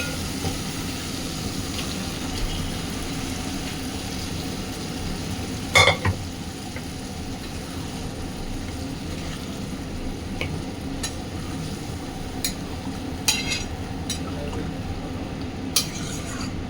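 Chickpeas added to frying spice masala and stirred, a steady close sizzle with occasional clinks of the spoon against the pan.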